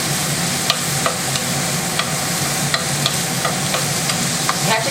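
Pancetta crisping in a pan for spaghetti carbonara, a loud steady sizzle and crackle of frying fat, with regular light scrapes and taps of a wooden spoon stirring, close up and without talk.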